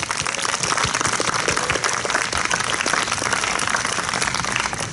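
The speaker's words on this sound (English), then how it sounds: "Give yourself a big round of applause." Dense, loud applause from a crowd at an eighth-grade graduation ceremony, continuous clapping that holds steady throughout with no break.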